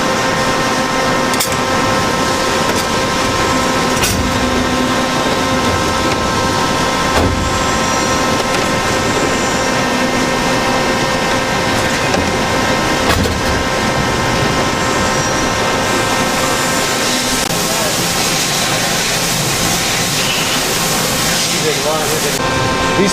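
Lathe turning parts in a busy machine shop, a steady broadband machining whir with tonal hum and intermittent clanks running throughout, loud and continuous with other shop machinery in the background.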